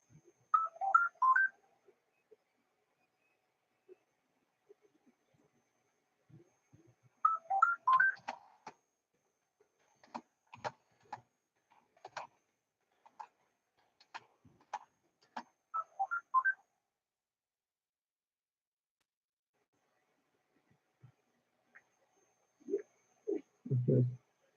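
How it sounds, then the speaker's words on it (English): A phone rings in scattered short bursts of electronic tones and beeps, separated by long silences, with sparse clicks in between and a brief voice near the end. "My phone keeps ringing."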